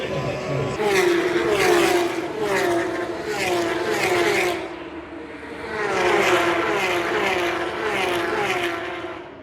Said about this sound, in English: The Porsches are louder than the F1 cars.